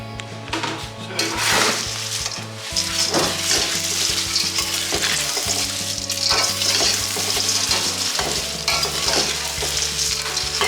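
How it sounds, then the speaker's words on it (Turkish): Steady loud sizzling and crackling of locusts frying with onion in a hot pan, with occasional stirring scrapes, continuous throughout. "Şimdi çekirgeleri atıyoruz, kavuracağız şimdi."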